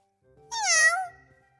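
A Minecraft cat gives one clear, drawn-out meow that rises and falls, close and alone in an otherwise quiet scene.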